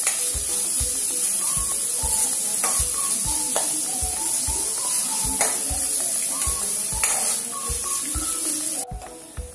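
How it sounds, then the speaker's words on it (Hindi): Onions fry in a pan until golden brown for a bottle gourd (lauki) sabji: a steady, loud sizzle runs throughout, broken by regular scraping stirs, close and with no voices. "प्याज को गोल्डन ब्राउन होने तक हमें भूनना है।"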